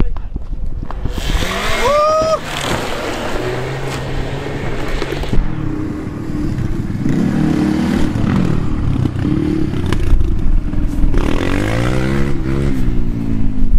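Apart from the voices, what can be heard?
Opel Astra accelerating on a gravel pit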